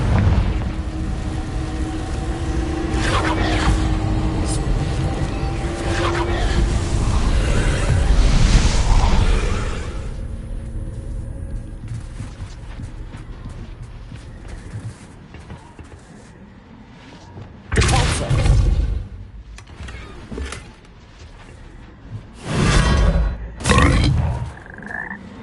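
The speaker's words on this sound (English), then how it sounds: "Confringo." Confringo fire spells in Hogwarts Legacy give a long stretch of roaring, rumbling blast noise. Several sharp, loud booming bursts follow later, separated by quieter gaps.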